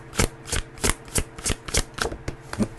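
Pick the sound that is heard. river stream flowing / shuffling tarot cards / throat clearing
shuffling tarot cards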